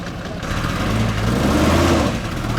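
A repaired car engine runs steadily on a mountain road in Tajikistan, a continuous, fairly loud rumble with a rough mechanical texture that holds for the whole stretch without stopping.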